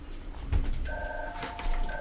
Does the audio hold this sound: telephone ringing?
yes